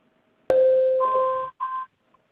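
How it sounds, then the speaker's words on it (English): Electronic warning tone on a court teleconference call, sounding once as a loud, clean sustained beep that steps up in pitch, then a short repeat, heard alone without talking. "we will sound a tone that sounds like this"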